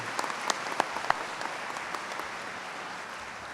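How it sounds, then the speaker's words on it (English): Commencement audience applauding steadily for the full stretch, a dense wash of clapping with a few sharper individual claps standing out near the start, heard from within a large hall. "Please join me in a round of applause."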